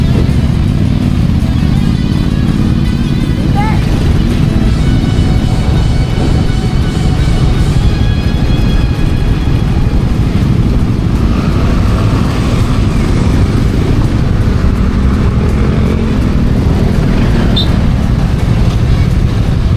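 Road traffic rumbles continuously at close range, a loud steady wash of car and motorcycle engines passing, with occasional higher engine notes and no speech.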